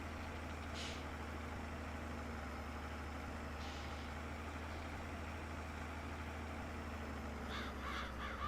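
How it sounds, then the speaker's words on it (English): Crows caw in Farming Simulator 22, giving a few short, fairly faint calls: one near the start, another midway and a quick cluster of three at the end, all over a constant low idling engine drone. "I hear that crowing in my ear"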